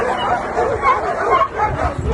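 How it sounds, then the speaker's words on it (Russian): Several small dogs yap and whimper close by in a noisy indoor space, their short excited barks mixed with people talking. "наши собачки на нас ругаются"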